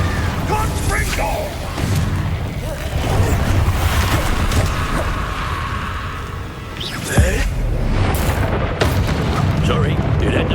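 Repeated fiery explosive spell blasts from combat in the Hogwarts Legacy video game, heavy booms and crackling bursts mixed with game effects and a voice speaking over the continuous noisy battle.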